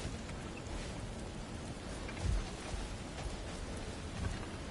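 Steady heavy rain pours through a storm in God of War Ragnarok, with low thunder rumbles swelling briefly twice beneath the constant hiss of falling water.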